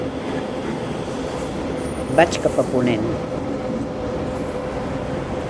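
A steady rumble of a train running on rails near Terrassa, Catalonia, with a few brief rattling clicks midway and a person speaking quietly over it.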